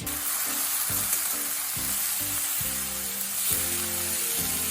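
Grated ash gourd fries over high heat in oil with nigella seeds, giving a loud, continuous sizzle up close, broken by rhythmic stirring scrapes.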